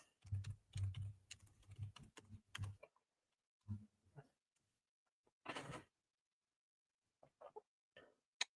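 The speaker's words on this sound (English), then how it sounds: "Let me just type it in." Bursts of keyboard typing, close and fairly quiet, with several quick runs of key clicks separated by pauses and a brief louder clatter partway through.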